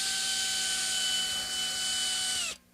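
A power drill spins clockwise into countersunk holes on a Fender Stratocaster during fret work, a steady close whine with clear tones that drop in pitch as it winds down and stops.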